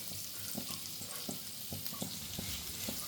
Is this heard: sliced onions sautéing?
yes